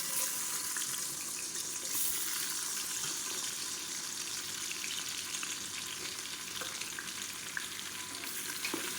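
Long-sliced large onions frying in hot oil with ghee for mutton biryani, a steady, close, bright sizzle that holds evenly throughout with no voices.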